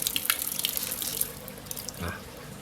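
Water runs from a household tap fed from the front of the house as a test tube is rinsed, a steady close hiss of flow with small splashes and shifts, no voices.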